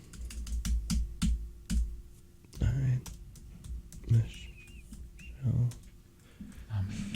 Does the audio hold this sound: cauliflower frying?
no